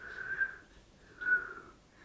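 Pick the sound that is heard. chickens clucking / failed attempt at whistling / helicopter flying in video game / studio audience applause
failed attempt at whistling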